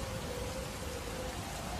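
Rain pours in a steady, dense wash of noise, even and unbroken throughout with no voices.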